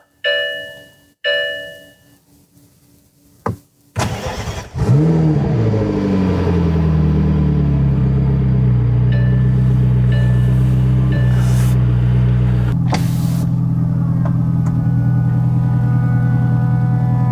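A couple of electronic chimes, then a McLaren 650S Spider's engine cranks and roars to life loudly, settling into a deep, steady rumbling idle with a slight rev.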